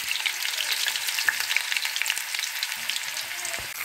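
Vegetables, including eggplant and beans, fry in a pan with a dried red chili, giving a steady crackling sizzle with occasional soft stirring knocks, close and without talk.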